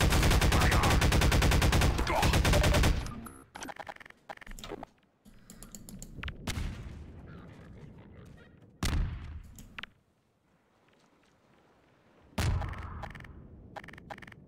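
Gunfire in the video game Half-Life 2 co-op opens with a loud, dense rapid burst, then scattered single shots and impacts follow between quieter gaps.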